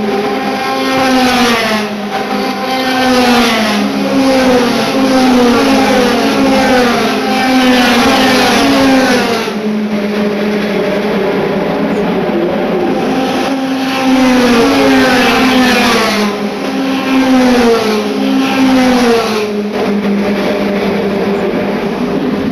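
A Formula 3 race car screams along the track at high revs, its engine note sweeping up and down through gear changes and passes, loud and continuous with other cars' engines layered in.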